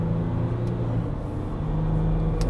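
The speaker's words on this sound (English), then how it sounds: "Roll in, punch the throttle." A dual-cab ute accelerates up a hill while towing, its engine droning low and steady with a rising hum, no talking heard.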